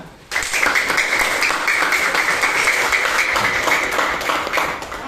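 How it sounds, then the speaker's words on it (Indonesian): A group of children clap their hands together during a classroom lesson. After a brief quiet moment the clapping starts abruptly and goes on as dense, steady applause for about five seconds before easing slightly. "Baik, tepuk tangan."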